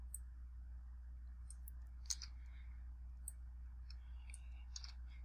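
Typing on a computer keyboard: faint, sparse key clicks scattered over a steady low hum, quiet and close, with no speech.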